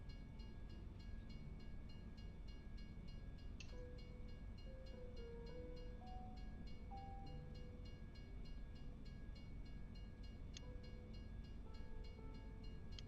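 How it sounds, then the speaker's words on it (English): A train rumbles by in Farming Simulator 25, a continuous low steady roar with faint tonal squeals and a couple of brief metallic clanks, distant and even. "Fucking trains. Always the fucking trains."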